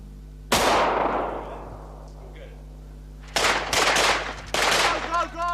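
Gunshots from a firearm during weapons training with a special task force, one sharp loud report with a long decaying tail followed by two more bursts of fire a few seconds later, close and forceful.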